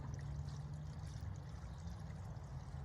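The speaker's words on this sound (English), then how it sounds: "I'm gonna use this water flow to just wash my hands off just a little bit." Soft, continuous trickle of a flowing stream, steady and low in level, with a faint gurgling texture and no voices.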